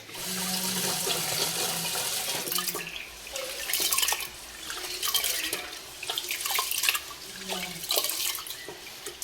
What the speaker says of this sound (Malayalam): നമ്മുടെ പച്ചരി നല്ല വൃത്തിയായിട്ട് കഴുകി